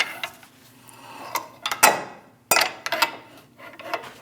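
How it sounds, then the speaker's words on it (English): Torque wrench tightening the front axle nuts on a 2001-2006 Chevrolet Silverado 2500 HD, heard as a few sharp metallic clicks and clanks close by, spaced irregularly, with no talking. "We're going to torque our axle nuts to 58 foot-pounds."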